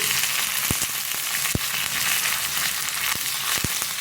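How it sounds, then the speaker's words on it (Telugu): Dried red chillies, cumin and curry leaves sizzling in hot tempering oil, a steady bright crackle and hiss with a few sharp pops and taps, close up and without voices. "2 ఎండుమిర్చి, కొద్దిగా కరివేపాకు వేసుకొని"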